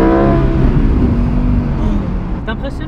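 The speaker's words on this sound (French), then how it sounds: "Une accélération, c'est une accélération" A Lamborghini accelerating hard, its loud, steady engine roar rising in pitch, close and continuous, with voices briefly audible near the end.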